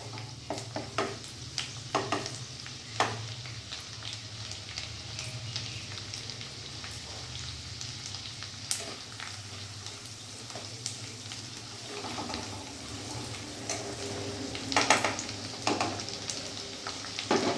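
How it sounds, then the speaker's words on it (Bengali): Chillies frying on a low flame in butter for butter garlic chicken, a steady soft sizzle with scattered crackles and pops, fairly close and continuous, with no voices. "এটা আমি সিম আঁচ করেই এখন ভাজবো"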